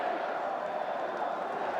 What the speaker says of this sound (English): Listen to this crowd too. They love Martinez already.